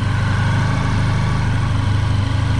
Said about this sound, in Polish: Silniczek odpalony